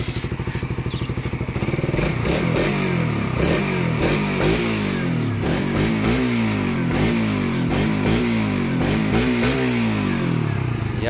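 A motorcycle engine with its airbox installed revs hard again and again, its pitch rising and falling in repeated bursts over a steady loud idle, close to the listener.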